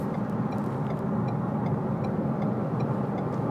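A 2017 Ford Fusion Sport accelerating on a highway under cruise control, its engine giving a steady low hum blended with road and tyre noise inside the cabin.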